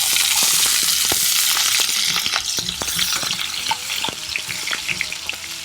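Onions sizzle loudly in hot, spiced chicken gravy with whole spices for a Madurai-style kari dosa, a dense, close frying crackle broken by frequent stirring scrapes, with no talking.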